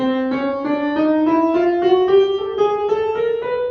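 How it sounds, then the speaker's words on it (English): A chromatic scale climbing steadily in small half-step notes on a keyboard-like instrument, evenly paced, about a dozen notes, clear and alone. "a chromatic scale sounds like this."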